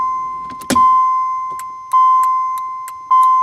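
A car's hazard flashers fitted with new LED bulbs tick in a steady rhythm, with a sustained electronic beep and a few louder clicks as the system switches on, heard close up with no talk.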